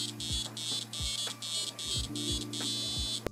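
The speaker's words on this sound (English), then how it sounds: "And another cool thing, there's a beeper." Beeper on a MikroTik RouterBOARD sounding a rapid series of short, evenly spaced electronic beeps, about eight in a row, close by against a low hum.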